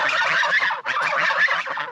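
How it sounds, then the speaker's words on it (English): Geese on a homestead honk loudly and close by in a harsh, overlapping chorus of calls, with a brief break before the clamour resumes. "The geese sure are noisy"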